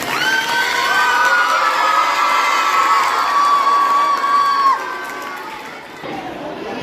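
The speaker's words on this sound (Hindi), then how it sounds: "उसके लिए एक बार ताली बजाना" An audience of children at a school hockey program's cycle distribution event cheers and shouts loudly together, high voices whooping over the crowd before the noise drops off and settles near the end.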